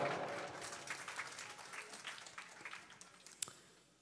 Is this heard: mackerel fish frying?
no